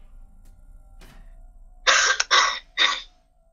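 Three sharp coughs burst out in quick succession at close range after a quiet stretch with a faint earlier click, set against a soft background hum, with no talking.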